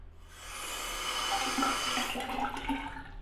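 A tap runs into a sink, a steady splashing rush of water that grows louder and fuller over a few seconds.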